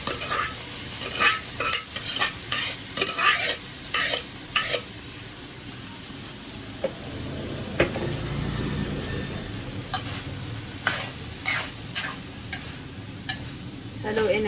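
Rice is stirred in a frying pan with soy sauce and oyster sauce, giving repeated scraping and clanking strokes over a constant sizzle, with a quieter stretch of frying in the middle and no talking.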